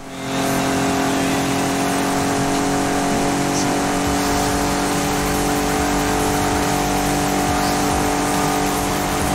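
A car in Forza Horizon runs at full throttle with a loud, close, steady engine roar that holds its drone for the whole stretch.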